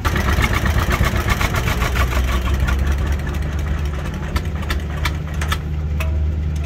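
An antique John Deere Model A tractor runs at an outdoor tractor show, its engine a loud, close, rhythmic low chugging that holds steady throughout, with sharp clicks and knocks scattered through the later seconds.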